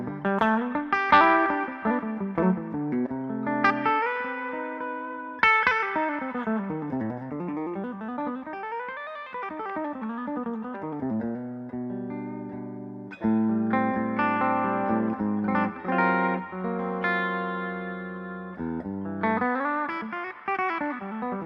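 A PRS SE electric guitar on its bridge pickup rings out through effects, with sustained, distorted chords and single notes, wavering chorus-like bends and reverb tails, played alone at moderate volume.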